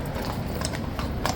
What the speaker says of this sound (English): the horse that came out even didn't want to come out